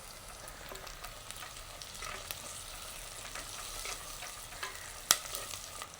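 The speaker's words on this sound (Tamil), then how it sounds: "இந்த மாதிரி வெங்காயம் பதங்கின பிறகு நாங்கள் கருவேப்பமில்லை போட்டுக்கொள்வோம்." Onions with curry leaves fry in a pan for a prawn biryani, a steady close sizzle with soft scraping stirs and a sharper clink near the end, no voices.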